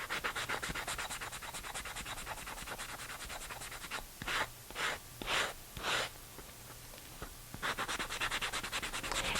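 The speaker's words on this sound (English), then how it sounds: "distressed it by sanding away some of the paint here" Sandpaper scrubs painted clay pot in rapid back-and-forth strokes, a close, soft scratchy rasp that pauses midway for a few separate swipes before resuming its steady rhythm.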